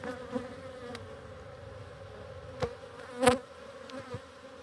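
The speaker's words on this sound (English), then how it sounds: "You got a bee coming out right now." Steady droning buzz of bees at an open hive during inspection, with occasional louder insects passing close by, and a few brief knocks over the hum.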